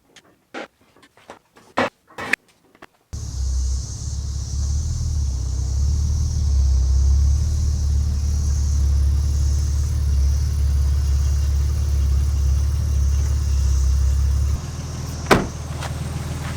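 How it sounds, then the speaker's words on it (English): A BMW E23 sedan is brought down off a lift and driven: a few sharp clunks and thuds like doors or the rack, then a steady low engine rumble that holds at an even level, a brief knock near the end. "let's get it down off the rack and let's go drive it"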